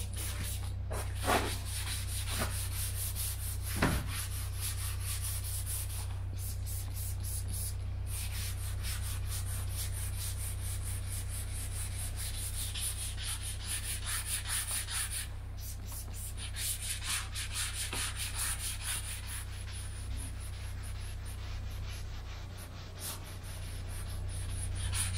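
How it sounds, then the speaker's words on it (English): A microfiber cloth rubs steadily across a sanded Iveco Iris bus panel during camper conversion prep, producing a continuous close, dry scraping drag with a constant low hum beneath for the whole stretch. "if you rub a microfiber cloth across the panel that's not been sanded, you'll see that it drags"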